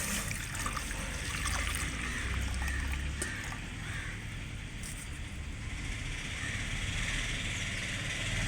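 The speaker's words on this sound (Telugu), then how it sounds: "దీంట్లో వాటర్ యాడ్ చేసుకున్నాం." Water poured into a pot to make pumpkin sago payasam: a steady, even trickling and splashing stream that runs without a break from start to finish, close to the microphone.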